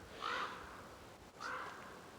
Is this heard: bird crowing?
yes